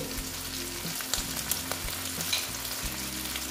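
Ground coriander, cumin, Kashmiri red chili powder and salt frying in a pan for banana-flower ghonto, a steady close sizzle with scraping stirs and a low hum, no talking.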